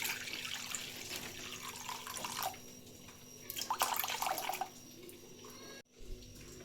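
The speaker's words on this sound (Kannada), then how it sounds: "ಮೊದಲಿಗೆ ನೀರು ಹಾಕೊಳ್ಳೋಣ." Water poured into a pan while making the filling for jackfruit holige, heard as two short bursts of splashing and trickling against a quiet kitchen background, with no talking.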